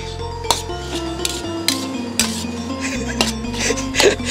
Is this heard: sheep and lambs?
no